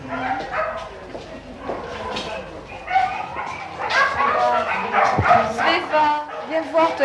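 Dogs at an animal protection society shelter in Gennevilliers bark and yip repeatedly, with some whimpering, close by and fairly loud under continuous speech.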